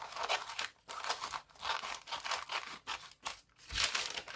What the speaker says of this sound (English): So I'm going to take my scissors and cut this.